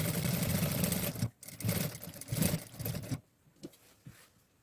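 Sewing machine stitching the seams of rayon jar pants, a close mechanical whirring run in several bursts that stops near the end, followed by a few soft taps and handling sounds.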